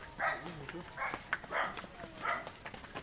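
A dog barks several times in a loose rhythm, moderately close, amid background noise and faint voices.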